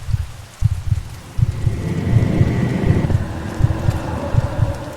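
Steady rain falls on a dark cloudy night in a horror story, a dense even hiss under low thudding rumbles that come and go, with no voice over it.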